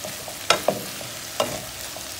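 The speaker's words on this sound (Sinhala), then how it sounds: "පස්සේ මම මේක ආපහු හොඳට කලවම් කරනවා." Snake gourd curry is stirred in a pan, with a few scraping spoon strokes in close succession over a soft, continuous frying sizzle, and no voices.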